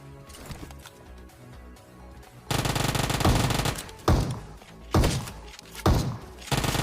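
PUBG gunfire: quieter distant shots at first, then loud, dense close-range firing with several heavy booming shots, likely shotgun blasts, punching through the sustained noise.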